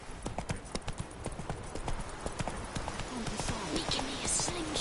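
Roach the horse's hooves clip-clop at a steady trotting rhythm in The Witcher 3, moderately close under in-game voices and ambient sound.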